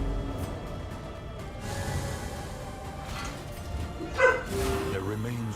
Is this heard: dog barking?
yes